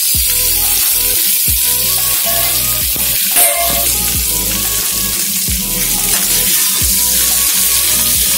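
Onions frying in a pan, a loud, dense sizzle, with boiled potatoes added and stirred in, giving repeated low thumps and scrapes against the pan.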